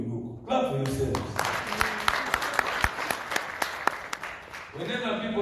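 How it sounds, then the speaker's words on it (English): Convention crowd clapping for themselves, a burst of applause with sharp individual claps standing out, starting after a short spoken lead-in and fading as a voice returns near the end. "Clap for yourselves."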